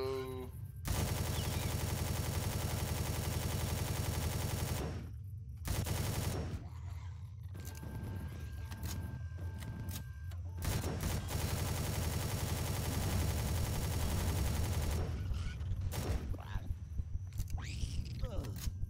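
A base turret in the space survival game Empyrion fires long, dense automatic bursts that are loud and continuous. The firing stops for brief gaps, and a person's voice is heard in places.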